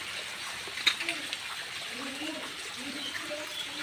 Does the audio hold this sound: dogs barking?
no